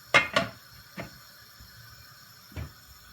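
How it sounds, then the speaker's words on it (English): Metal lid being set onto a pot of Trinidad stew beef, two quick close clanks followed by two softer knocks spaced apart in a quiet kitchen. "So now we're putting the lid on."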